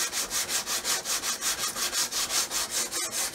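Sanding block rubbed back and forth over the hull of a 1/200 scale Titanic model, steady rhythmic rasping strokes about three per second, close and alone, with a brief pause near the end.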